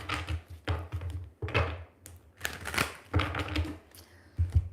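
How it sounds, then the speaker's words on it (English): A tarot card deck is shuffled by hand, making a run of close, crisp riffling and tapping bursts with brief pauses between them and no talk. "I'm going to shuffle this tarot deck first."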